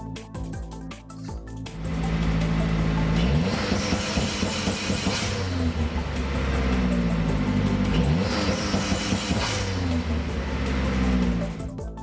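A Gen 2 Mazdaspeed3 engine fitted with a COBB Accessport revs up twice toward 3000 RPM from a low idle, each rise a loud, close climbing engine note that falls back, with no talking.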